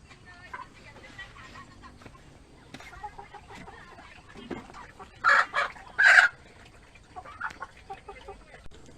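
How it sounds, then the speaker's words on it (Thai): Chickens on a Thai farm raised alongside wild boars, with soft clucks scattered through and two loud, sharp rooster-like calls in the middle, close by, with someone talking quietly around them. "ฝั่งนู้นเราก็จะเลี้ยงไก่ จะเลี้ยงน้องไก่กัน"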